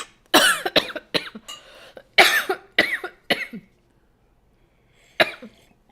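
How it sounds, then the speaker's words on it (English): A person coughs repeatedly in harsh, close bursts, several in quick succession, then pauses before one final cough. "Here, you can keep coughing"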